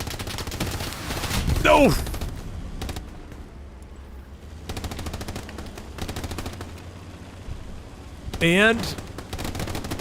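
Steady gunfire and rocket launches in the World War II shooter Hell Let Loose, continuous crackling shots with two rising, whooshing rocket sounds, while a voice speaks briefly.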